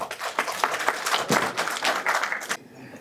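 Audience applause after a cultural performance at a dam safety awareness programme in Kargil, a dense burst of clapping that carries steadily for about two and a half seconds before cutting off abruptly.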